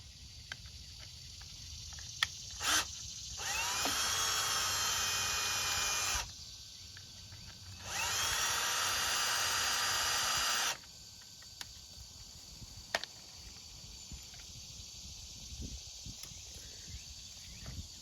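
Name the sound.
drilling through aluminum with a black oxide bit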